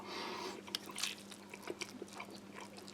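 Chewing on dry U.S. humanitarian daily ration food with beans, close soft crunches and wet mouth clicks in an irregular rhythm, with no talking.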